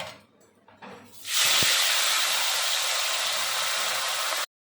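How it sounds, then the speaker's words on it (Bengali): Bele fish coated in salt and turmeric hits hot oil, setting off a sudden loud, steady hissing sizzle that holds close for about three seconds before cutting off abruptly. "এখন আমি ভাজা করছি করে এই বেলে মাছের ঝাল"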